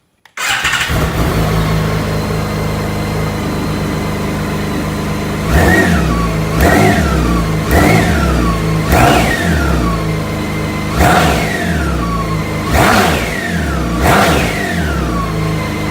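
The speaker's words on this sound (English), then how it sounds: "The exhaust note is so much nicer." A BMW K1600 GT motorcycle engine idles, then revs sharply several times in quick bursts, each throttle blip rising and falling with a throaty exhaust note, close by.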